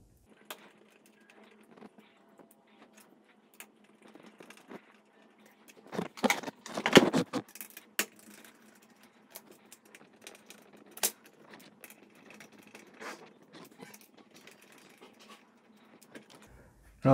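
Screws come out of an F84 RGB mechanical keyboard kit with small metallic clinks, scrapes and rattles, sparse and scattered, then a denser burst of handling noise midway, close and quiet with no speech.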